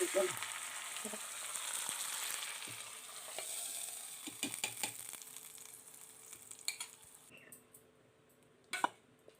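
Hot tempering poured into tomato dal rasam sets off a loud burst of sizzling that fades to softer crackling and stirring, ending with a few utensil clinks.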